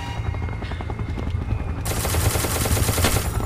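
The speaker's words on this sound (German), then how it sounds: "Schießen die auf uns?" Rapid machine-gun fire shooting at the player in the SCP Containment Breach video game, dense continuous bursts that grow louder and harsher partway through, close and sustained.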